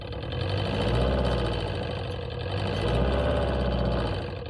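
An electric Sea-Doo conversion running with a worn rubber spider drive shaft coupler, giving a steady droning whir with a fast rhythmic rattle throughout, close and loud without speech.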